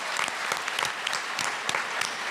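Audience applause at an anniversary event show: a large crowd clapping steadily, dense and moderately loud, with a few sharper individual claps standing out in the brief burst.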